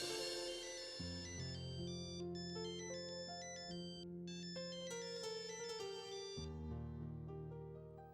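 Telephone ringtone playing a bright electronic melody of repeating chiming notes over a sustained synth bass. It is continuous and fairly quiet, heard alone with no speech.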